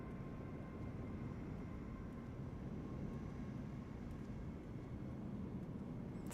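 Steady low engine drone of an aircraft doing a touch and go at Manchester in Microsoft Flight Simulator 2024, a continuous faint rumble and whine without distinct events, no voices.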